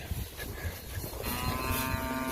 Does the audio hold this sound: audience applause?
no